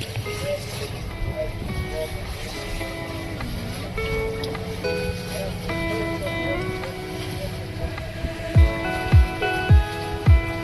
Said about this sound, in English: And there's actually another pirate ship on its way in.